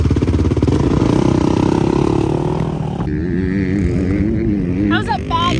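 A motorcycle ridden at a dirt track drones loudly and steadily, its engine note shifting partway through, while voices talk over it near the end.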